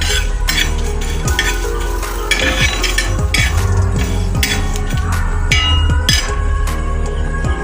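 Fennel, coriander, cumin and dried chillies dry-roasting in a wok, close and loud: a dense rattling scrape of seeds stirred against the metal in quick repeated strokes, with light clinks and a dry crackle underneath, no voices.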